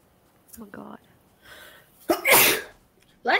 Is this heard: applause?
no